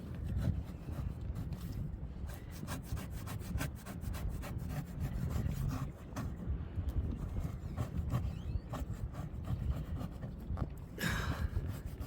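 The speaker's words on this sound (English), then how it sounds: "stuff just does not want to come off. I probably could have used a bigger scraper." Steady, rough scraping of stubborn old finish off wood inside a boat's forward cabin, with continuous close rasping strokes and a brief brighter scrape near the end, no talking.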